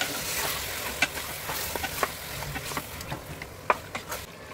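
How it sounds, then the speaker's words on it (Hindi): Mutton khichda with bones being stirred in a pot: soft scraping and sizzling texture with a few sharp clinks of the spoon against the pot, steady and close, no talking. "अच्छे से हिलाएंगे।"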